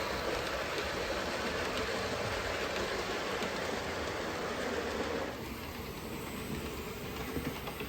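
Model train locomotive running on a home layout, a steady continuous rumble and hiss of wheels on track that drops slightly in level partway through, with no talk.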